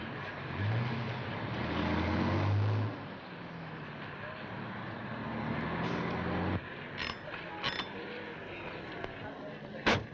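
A car passes close by on a busy street, its engine rumbling loud and steady before dropping away, followed by fainter traffic and brief sharp sounds in the distance; people call out over it.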